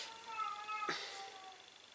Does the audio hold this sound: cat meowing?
yes